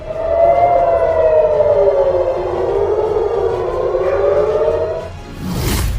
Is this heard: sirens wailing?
yes